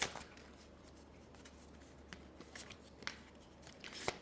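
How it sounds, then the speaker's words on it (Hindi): Tarot cards being shuffled by hand, a soft papery riffle and rustle with faint slaps, quiet and close, no talking. "Okay, I need to shuffle it again."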